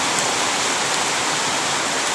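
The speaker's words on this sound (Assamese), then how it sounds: "এতিয়া ঘৰত থাকোঁতে বৰষুণডাল আহি গ'ল" Heavy monsoon-season rain coming down outside a house, a loud, unbroken roaring hiss that fills the whole stretch with no voices.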